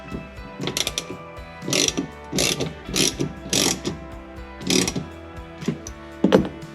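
A ratchet tightens the bolt on a Ford Mustang Foxbody parking brake bracket in short bursts of crisp, close clicking, about eight strokes separated by brief pauses.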